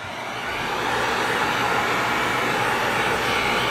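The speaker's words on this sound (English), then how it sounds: "We're going to take our heat gun, and we're just going to slowly go around it, especially the edges." A heat gun blows steadily on an RV vinyl decal, a loud, continuous roaring whoosh of hot air that holds even throughout.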